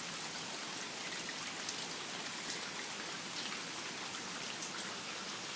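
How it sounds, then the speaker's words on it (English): Heavy rain pouring down during a severe September storm, a dense steady hiss of drops drumming on surfaces, loud and unbroken throughout with no voices. "Oh yeah, the rain picked up again."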